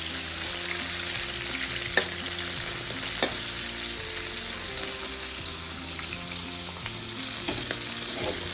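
Prawns fry in a pan for Malaysian soy sauce prawns, making a steady close sizzle with occasional faint utensil taps underneath.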